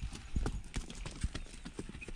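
Horse hooves clip-clop on a mountain road near Kodaikanal, a quick, uneven run of close, sharp knocks, with no talking over them.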